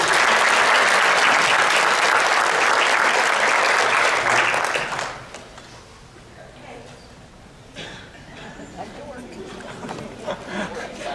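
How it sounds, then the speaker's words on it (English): Banquet guests at the Pickens County STAR Banquet give a loud, full round of applause that lasts about five seconds and then stops abruptly, leaving a quieter room with scattered claps, murmurs and a voice speaking. "So give them another round of applause."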